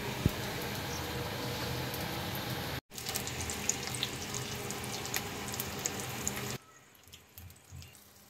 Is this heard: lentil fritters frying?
yes